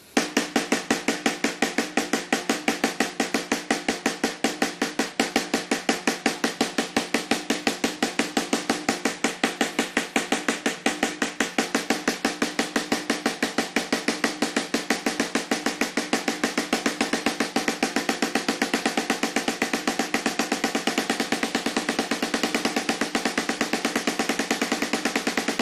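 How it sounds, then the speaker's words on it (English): A drum played with double stroke rolls using finger control, a fast, even stream of closely spaced strokes running continuously for the whole stretch, steady in level with no talk. "so you want to learn how to play some doubles with finger control."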